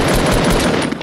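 Gunshots from a multiplayer shooter video game crackle in a dense, loud burst of overlapping rounds across the short span.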